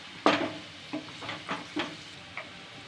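A sprig of curry leaves dropped into hot oil gives a sharp crackling burst, followed by several shorter spitting pops and light stirring taps over a few seconds, close and fairly quiet.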